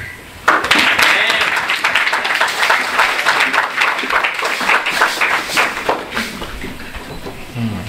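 A church congregation applauding during a French-language prayer service, with dense, continuous clapping that starts abruptly and stays loud and close throughout.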